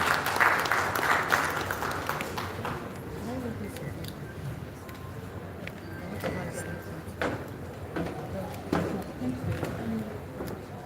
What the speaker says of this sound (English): Please round of applause for Dr. Jacobo, ladies and gentlemen.